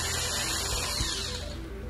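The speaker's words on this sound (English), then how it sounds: "Drill one there." A small power drill whirs steadily up close while boring a hole into a polymer clay bottle, a brief continuous whine that eases off toward the end.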